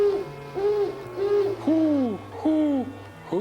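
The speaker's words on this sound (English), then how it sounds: "A normal-sized owl." An owl hoots in an old film soundtrack, a sequence of about six clear, wavering hoots with falling and rising tones, loud and close over a steady low hum.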